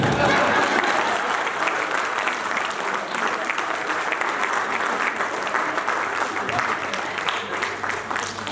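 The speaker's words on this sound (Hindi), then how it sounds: "ताली बजा दीजिए।" A seated audience at a business event bursts into sustained, thick applause that holds at an even level for over eight seconds, close and loud, with no speech on top.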